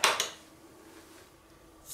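A spoon clinks against a bowl while stirring orange jam smooth, two quick scraping knocks at the start, then soft faint scraping, close and without talk.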